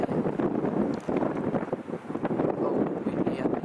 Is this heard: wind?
yes